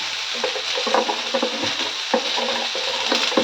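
Chicken pieces sizzle steadily in hot oil in a pan while a utensil stirs and scrapes them in a regular rhythm, close and fairly quiet, with no voices.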